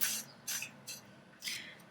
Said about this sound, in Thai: ฉีดสเปรย์น้ำมัน